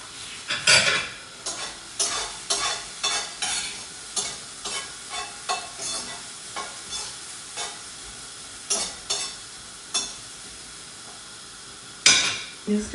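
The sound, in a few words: onions sizzling in oil while preparing risotto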